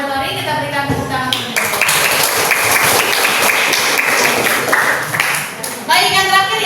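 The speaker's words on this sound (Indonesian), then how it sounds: "Terima kasih untuk kelompok auditori. Kita berikan tepuk tangan." Applause from participants at a school counseling training session in Bekasi, a dense, steady wash of many hands clapping together for several seconds, loud and fairly close, with a voice heard at the start and end.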